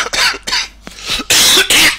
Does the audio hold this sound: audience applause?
no